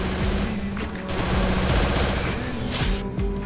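Dense video-game gunfire rattles continuously, with rapid overlapping automatic bursts and shots close and loud throughout.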